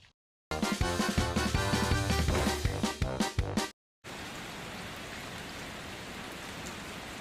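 Rain falling in a steady dense hiss, loud and continuous for the last few seconds, after a burst of loud music that ends abruptly.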